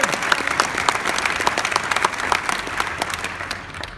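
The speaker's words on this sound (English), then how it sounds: "Give her a big round of applause" An audience at a North Carolina Hall of Fame induction ceremony claps for the speaker's wife, a steady round of applause from a crowd indoors that slowly tapers off toward the end.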